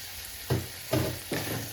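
Peppers and a spoonful of flour are sautéed in a pan, a soft background sizzle punctuated by three distinct scraping stirs spaced about half a second apart, close and without speech.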